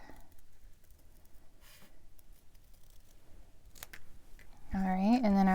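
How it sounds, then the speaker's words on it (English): Scissors snip through crafting paper in short, soft, close cuts scattered across the moment, followed by a voice speaking at the end. "I'm going to move the paper instead of my scissors so I get a nice clean"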